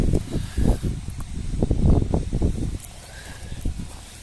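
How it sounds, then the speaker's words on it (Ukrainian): Strong gusty wind buffets outdoors at a car lot in Germany, rumbling and roaring in uneven low surges that rise and fall throughout, with a faint hiss on top and no talking. "Погода так помінялася, вітроган такий дує."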